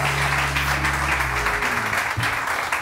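Studio audience applauding steadily throughout at fairly close range, a dense, continuous wash of clapping with no pauses.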